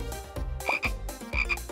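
A toad croaks in short, close, distinct bursts, several guttural calls in quick succession with brief gaps, no voices.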